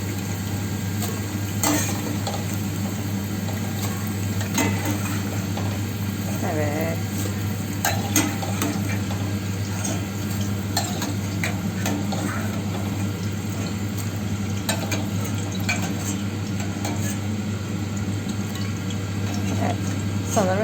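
Floured beef liver and cubed potatoes are tossed together over a low, continuous frying sizzle and a steady hum, with scattered scraping and clinking of utensils.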